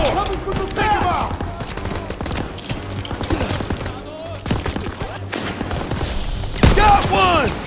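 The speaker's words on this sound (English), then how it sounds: "MG on the second floor!" Machine gun fire from a second floor in the World War II shooter Call of Duty: WWII, dense rapid bursts of gunfire mixed with game combat noise and shouting voices.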